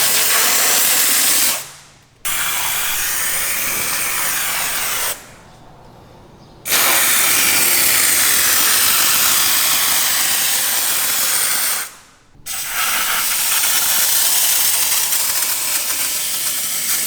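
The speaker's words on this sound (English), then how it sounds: "turn the nozzle and spray down into the crevices" Loud steady spray hissing from an aerosol spray foam can sprayed into crevices in long bursts, broken by three short pauses.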